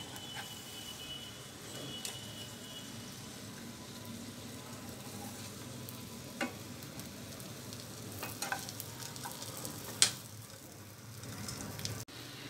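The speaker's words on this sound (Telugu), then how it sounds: "ఎగ్స్ ఒకవైపు ఫ్రై అయిన తర్వాత వీటిని రెండో వైపు టర్న్ చేసుకోవాలి." Eggs for an egg roast fry in a pan, giving a steady low sizzle throughout with a few soft clicks of a utensil near the end, no voices present.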